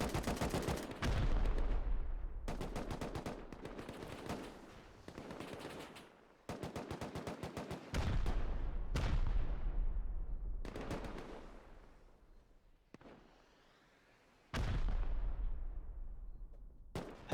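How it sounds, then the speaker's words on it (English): Repeated bursts of automatic gunfire during a team raid in a Rust tournament match, with loud rapid volleys broken by short pauses and a stretch of quieter shots before the heavy firing resumes. "Heavy shots coming in"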